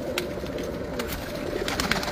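Pigeons coo in a loft in Multan, soft repeated low cooing calls close by, mixed with light rustling and faint background noise.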